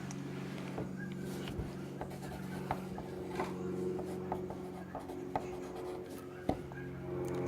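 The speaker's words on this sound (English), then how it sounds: "Find the word and write it." Pen or pencil scratching on paper during a classroom vocabulary lesson, soft intermittent strokes and taps over a steady low hum, faint and close.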